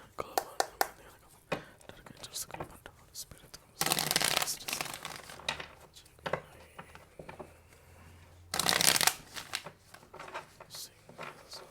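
Tarot cards being shuffled in two loud riffling bursts separated by softer handling and rustling, close up, with a person speaking quietly at times in between.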